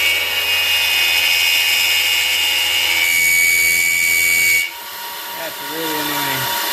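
A CNC machine mills a thin aluminum piece, making a loud, steady high-pitched whine and chatter that shifts tone partway through, then drops off abruptly near the end.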